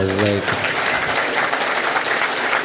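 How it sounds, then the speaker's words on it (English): Audience applause during a talk with Khabib Nurmagomedov, loud dense clapping that starts right after a short voiced note and continues steadily for a couple of seconds. "Round of applause"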